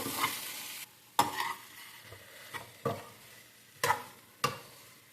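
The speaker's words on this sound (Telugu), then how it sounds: "ఈ ఆలుగడ్డలు మొత్తాన్ని ఈ మనం ముందు తయారు చేసి పెట్టుకునే పచ్చిమిరకాయలు కూలిపాయల్ని మొత్తాన్ని కలిపేసుకున్న దాకా తిప్పేసుకోవాలన్నమాట" Potatoes with green chilies and onions are stirred in a pan, gentle sizzling broken by about five distinct spoon scrapes and knocks against the metal at an uneven pace, close and fairly quiet.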